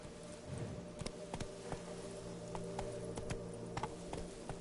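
Roach, a horse in a PS4 game, gallops with a faint, rhythmic clip-clop of hooves, quiet and somewhat distant over a low steady background, with no talking.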